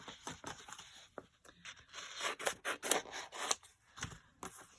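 Scissors snip paper close by for a collage journal page, a run of short crisp cuts with light paper rustle and no talk.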